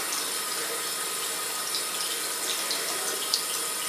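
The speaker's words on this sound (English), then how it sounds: "You just you brush it, but you do it underneath the water." Running tap water splashing over a makeup face brush being washed at a sink, a steady close hiss of flowing water with faint brush swishes and no talk.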